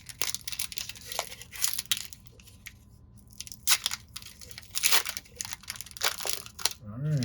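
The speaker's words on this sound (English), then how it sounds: "where we open a pack and then draw the card later" Pokémon trading card pack torn and crinkled open up close, with loud foil crackling bursts separated by brief pauses, then a voice briefly at the end.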